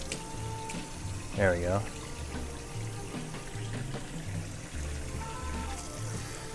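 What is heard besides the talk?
water running while washing a measuring cup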